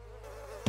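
Bees buzz around their nest in a steady, close drone with a sharper burst of sound at the very end.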